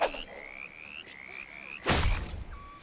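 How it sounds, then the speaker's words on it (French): A frog croaks in the video game Baldo: The Guardian Owls: a row of short rising calls, then a loud thump at about two seconds and one last faint call. No one speaks. "La petite grenouille."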